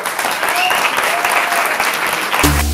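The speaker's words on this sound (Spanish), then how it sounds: "Un aplauso, por favor." Audience applause at a Spanish YouTubers' 10-million-subscriber celebration, dense steady clapping filling the whole clip before music cuts in at the end.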